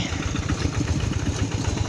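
A walking tractor's small engine runs steadily at idle, a continuous low chugging and clattering pulse heard close up and at moderate volume, with no talking.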